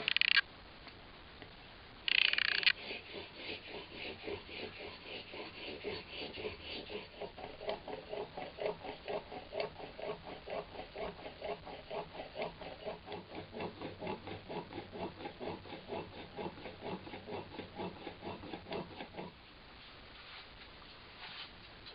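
A plane blade locked in a honing jig is stroked back and forth on a sharpening stone, giving a quiet, even rhythm of repeated scraping strokes for most of the clip before it stops.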